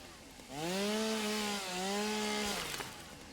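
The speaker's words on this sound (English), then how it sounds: "If you chainsaw just right next to it, it will get rid of the rock." A chainsaw in the Satisfactory video game cuts close to a rock, revving up to a steady buzzing whine with a short dip midway, then dying away.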